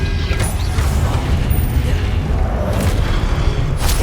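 Confringo explosion spells in the game Hogwarts Legacy, a continuous loud rumbling blast with deep booming low end and crackling debris, dense and sustained with brief higher whooshes.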